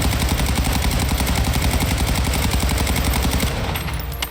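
Rapid, sustained machine gun fire from a weapon in Warzone 2.0, a loud, evenly spaced stream of shots lasting several seconds before cutting off, with no talk.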